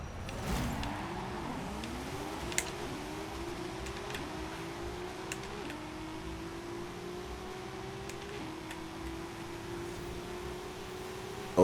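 A 2013 Subaru BRZ engine revs steadily during a drag race in Forza Horizon 5, its tone climbing through successive gear shifts at a moderate level, with light ticking clicks scattered over the drone.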